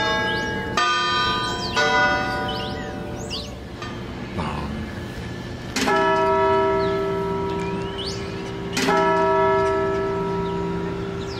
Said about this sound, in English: It's actually a real bell.